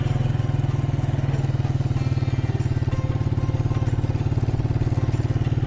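A motorcycle engine misfiring on a mountain road between Kaghan and Naran, running with a steady, uneven rapid pulse that stays loud and close for several seconds.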